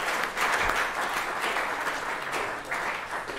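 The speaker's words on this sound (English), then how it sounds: "A quick round of applause for Dan in case he's watching." Audience applause at a sixth form school prize-giving ceremony, a steady, dense round of clapping from a hall crowd that holds at an even level throughout.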